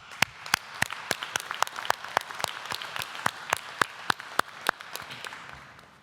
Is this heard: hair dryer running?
no